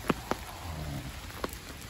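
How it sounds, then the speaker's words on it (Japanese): Light rain falling during an outdoor walk, a soft continuous patter with a few distinct drops striking close by, fairly quiet with no voices. "雨も降ってるし。"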